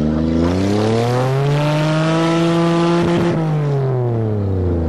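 A Toyota with a manual gearbox floored at full throttle, engine droning loud and steady with rising harmonics as it pulls through the rev range, close inside the cabin.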